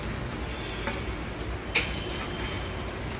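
Grated ginger and curry leaves frying on low heat in a pan for mustard pulihora, a steady close sizzle with faint ticks and stirring clicks, no talking.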